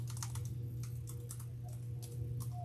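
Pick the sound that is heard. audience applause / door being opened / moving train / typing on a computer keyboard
typing on a computer keyboard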